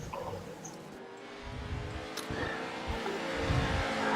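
Engine of a Pro Light 2 racing truck lapping Brands Hatch in a racing video game, a steady droning motor with rising revs and pulsing gear changes, fairly loud throughout.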